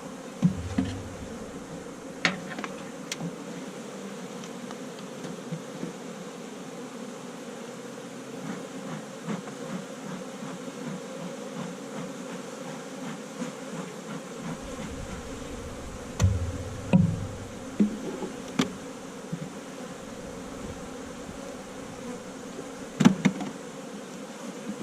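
Honey bees hum and buzz steadily around an open hive during queen cage removal, a soft continuous drone with faint clicks and handling knocks from the beekeeping work, and no one speaking.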